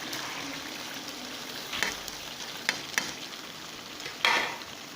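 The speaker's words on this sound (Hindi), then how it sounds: "इसको अच्छी तरीके से चम्मच के साथ मिक्स करेंगे और भूनेंगे इसको, दाल को" Lentils and meat sizzle and fry in a pan for chicken dal gosht, a continuous close hiss broken by several sharp scrapes and clinks of a spoon stirring, with no voices.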